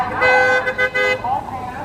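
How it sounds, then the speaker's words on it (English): Car horns honk at a street protest against ICE in Portland, Oregon: several loud, sustained toots sound close by, layered with one another, with traffic noise and voices in the background. "Honk for ice."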